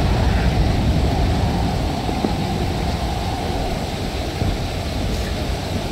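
Broad, steady roar of ocean waves and surf in the survival game Stranded Deep, a constant loud wash of water noise with no voices.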